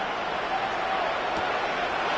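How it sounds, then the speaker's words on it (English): Football stadium crowd roaring steadily during a kickoff return, a dense, continuous wash of distant cheering and noise with no break. "The crowd trying to make some noise."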